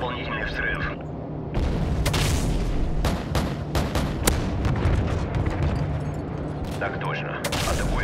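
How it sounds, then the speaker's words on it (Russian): Heavy booming missile explosions and gunfire from a Modern Warfare 3 battle, dense and continuous, with sharp blasts repeating over a rumbling low-end and radio chatter. "Friendly Predator missile inbound."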